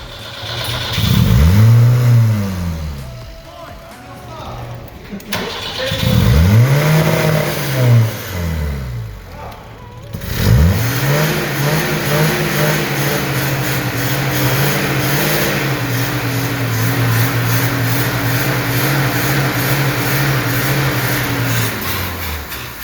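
A 1974 BMW 2002 barn find engine cranks and catches twice in loud rising revs, then settles into a steady running drone that holds close and prominent to the end.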